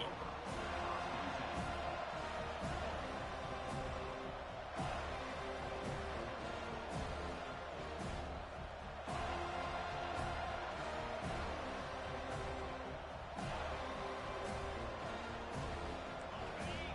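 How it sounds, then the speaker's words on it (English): A packed stadium crowd at a South Carolina versus Florida State college football game roars as a steady, dense wall of noise, while a commentator speaks over it. "This crowd bringing an ear-splitting welcome to their visitors."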